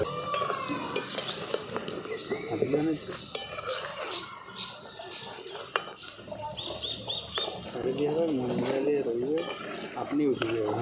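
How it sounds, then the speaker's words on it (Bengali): Homemade traditional Bengali village sweets fry in oil in a wok, with a continuous sizzle broken by scraping stirs and sharp clinks of a utensil against the pan. Brief voice-like tones rise in the background. "খালি আমি এই কড়াটাকে একটু ধরে আর এইভাবে তেলটাকে আমি একটুখানি নাড়িয়ে নেব"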